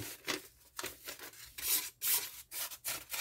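The edge of a 7-inch Henckels Santoku is dragged across a coarse 120-grit Norton Crystolon stone in about seven quiet, rhythmic rasping strokes with short gaps between them.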